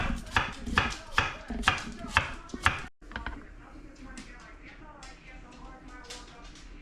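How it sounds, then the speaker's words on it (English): An onion chopped on a board for chilli con carne, a run of sharp, evenly spaced knife strikes up close, then a softer, busier clatter of cutting with some talk in the background. "Turns out people chop onions."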